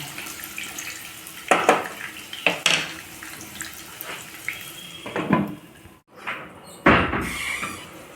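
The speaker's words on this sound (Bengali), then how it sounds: "দিয়ে গ্যাসের ফ্লেমটাকে সিমে করে দিয়ে আলুগুলোকে লাল লাল করে ভেজে নেব" Potatoes with turmeric fry over a low gas flame as they are stirred in a pan, with irregular loud scrapes and knocks of utensil on pan spread over a steady background.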